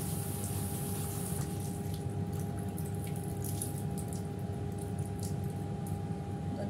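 A teapot is rinsed with freshly boiled water, giving quiet splashing and dripping over a low background hum with no speech.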